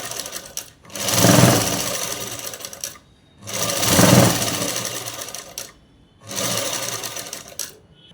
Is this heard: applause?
no